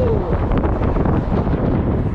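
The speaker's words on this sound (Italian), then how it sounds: "c'è un costante vento freddo" Steady cold wind buffets the microphone while cycling on a former railway greenway near Voghera, a low, rumbling roar throughout, close and constant.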